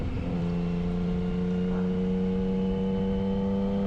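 Yamaha FJ motorcycle engine on an open-road ride in Colorado, a loud, steady droning hum at constant speed, continuous throughout with no talking.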